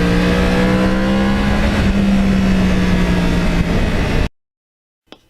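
A Yamaha R1 crossplane motorcycle engine drones steadily at high revs while riding along the Hudson River in New York State, loud and close with a held pitch, then cuts abruptly to silence followed by a short faint knock.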